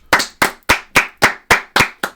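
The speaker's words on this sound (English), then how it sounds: "Let's give Michael Wacha a round of applause." Eight sharp, evenly spaced hand claps ring out close and loud, a brisk steady rhythm of applause from what sounds like a small group or a single pair of hands.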